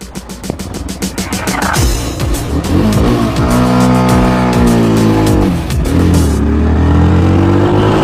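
A motorcycle engine revs loudly and pulls away, its pitch climbing and sweeping through several rises as the bike rides off close by, with no talking.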